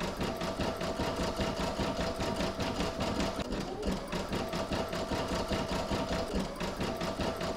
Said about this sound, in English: now you're going to stitch round number 16, and that's going to do the satin stitching along the join and the raw edge